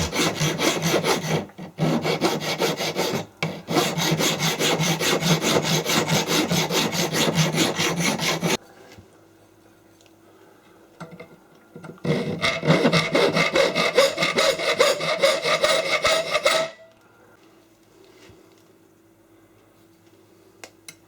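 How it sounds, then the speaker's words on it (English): Sandpaper rubbed back and forth over a 3D-printed key, close and loud, in two long bursts of steady rasping strokes separated by a quiet pause. "Then a bit of sandpaper in a different direction, and that shows me where any remaining tool marks would be."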